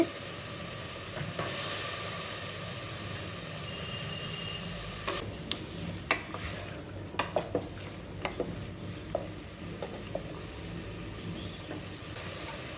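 Green peas cooking in a pan for vegetable pulao, a steady soft sizzle with scattered clinks and scrapes of a spoon stirring against the pan, close and fairly quiet with no voices.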